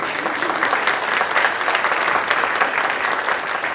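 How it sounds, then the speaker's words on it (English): Steady, full applause from an audience at a speech, clapping for a woman named Cassie, sustained and even throughout without any voices. "Let's give her a round of applause,"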